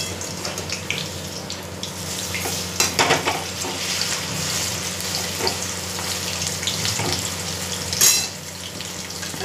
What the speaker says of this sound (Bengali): এখনই সব ভাজছি